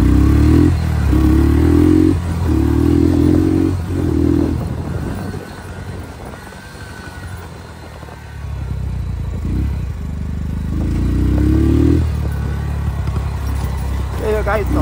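An enduro motorcycle on a ride, its engine droning in bursts and surging again after a lull, heard with wind and a voice talking over it.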